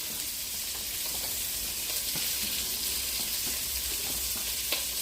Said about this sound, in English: Let me get this meat flipped over. So that's one side seared.